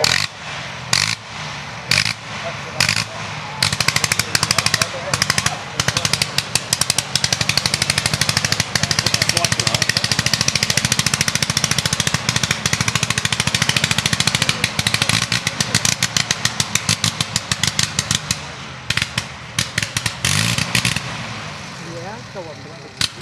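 The nine-cylinder rotary engine of a Sopwith Camel World War I aircraft runs loud and close, its roar repeatedly chopping in and out as the magneto selector cuts cylinders, with people talking over it.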